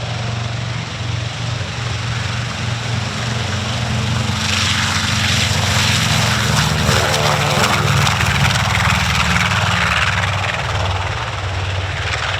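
A B-25J Mitchell bomber taxis under its own power at a Virginia warbird weekend, its twin propeller engines giving a loud, steady droning roar that swells slightly and holds throughout.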